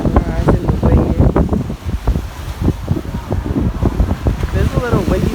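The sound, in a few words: wind blowing by the sea at a resort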